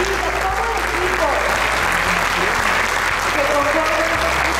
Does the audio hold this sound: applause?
yes